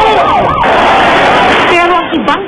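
An ambulance siren wails at the Black Nazarene procession, its rising and falling tone loud at the start and again near the end, over dense crowd noise.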